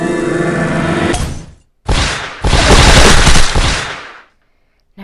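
Rocket and disco ball power-ups go off in the Toon Blast mobile puzzle game, a loud crackling burst followed by a longer, dense rattling blast of shattering effects, then quiet.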